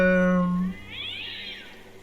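A cat in the video game Mortisomem lets out a single meow that slides upward into a thin, high, drawn-out cry, clear and close.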